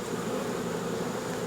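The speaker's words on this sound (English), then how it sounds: "the bees are moving about really fast, really quick, so they're getting a little agitated." Agitated honeybees swarm around an open hive, a dense, steady buzzing hum filling the air close by with no voices.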